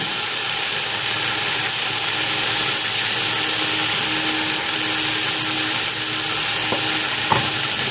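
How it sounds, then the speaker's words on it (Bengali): Mixed vegetables frying with spices in a pan for Bengali laal sukto give a steady, close sizzle throughout, with a couple of brief utensil knocks near the end. "সবজিগুলো একদম একটুখানি মশলার সঙ্গে ভাজা হয়ে গেছে"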